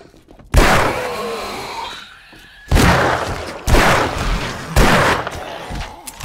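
Gunfire in the survival video game 7 Days To Die: several loud, heavy shots boom at irregular intervals, each with a decaying tail, and a voice speaks briefly between them.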